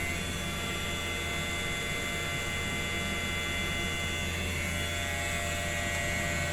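A DTF printer at a print shop in Bacolod hums close by, a steady, unchanging electric drone with constant background noise and no pauses.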